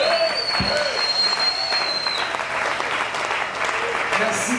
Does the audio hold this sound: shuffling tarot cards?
no